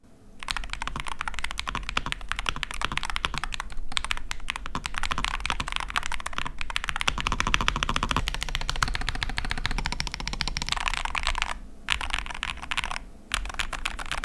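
Rapid, steady clatter of keys typed on an Asus Hall effect mechanical keyboard, close and crisp, with brief pauses between bursts and no speech.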